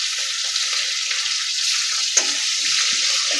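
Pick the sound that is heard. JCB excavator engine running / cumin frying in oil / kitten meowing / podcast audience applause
cumin frying in oil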